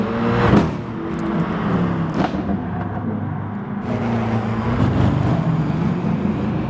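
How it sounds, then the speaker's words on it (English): A BMW car engine in the racing game GT Sport hums low and steady at modest revs on the Interlagos circuit, with a brief louder burst near the start, continuous and close throughout. "Keeps the revs on that BMW very low."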